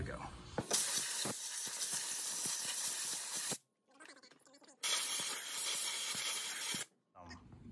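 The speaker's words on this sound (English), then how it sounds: "I'm gonna go ahead and spray real good around these two." Cleaner sprayed in long, loud hissing bursts around the hydraulic oil caps of a Kubota zero-turn mower, two sustained blasts separated by a short pause with faint handling noise.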